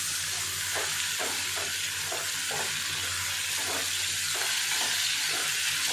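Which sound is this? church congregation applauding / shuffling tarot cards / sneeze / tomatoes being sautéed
tomatoes being sautéed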